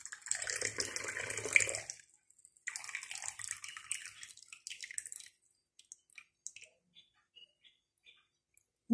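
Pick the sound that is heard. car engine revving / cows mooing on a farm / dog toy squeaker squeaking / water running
water running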